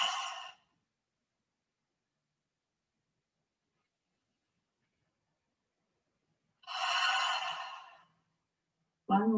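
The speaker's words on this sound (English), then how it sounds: "Take some deep breaths." Deep breaths during a yoga session: two long, slow exhales several seconds apart with silence between, close and clear, then the start of a third.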